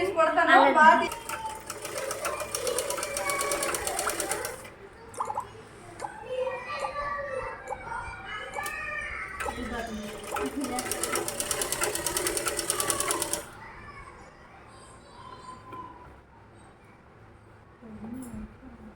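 A sewing machine stitches fabric in short runs with pauses between them, its rapid mechanical whirr heard nearby while people, including children, talk in the background.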